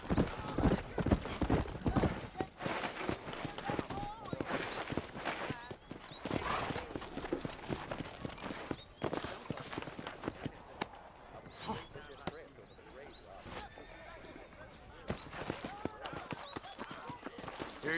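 Horse hooves clip-clop steadily at a riding pace in the Red Dead Redemption western video game, with an occasional whinny, busy game ambience and dialogue over the top.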